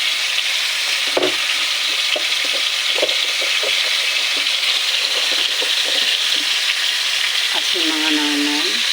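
Chicken tinola sizzling and frying in a pot while being stirred, a steady broadband sizzle with scattered scraping clicks of the utensil against the pot throughout.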